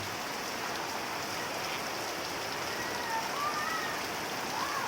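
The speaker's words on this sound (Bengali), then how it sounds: "আজকে এই যে বৃষ্টিটা পড়ছে চাঁচলে" Heavy monsoon rain pouring down in Chanchal, Ramnagar, a dense, unbroken hiss of rain on surfaces with no voices.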